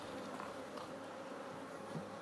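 Agitated honey bees buzz close around a beekeeper at an open hive, a continuous, dense, fairly loud droning hum with no voices.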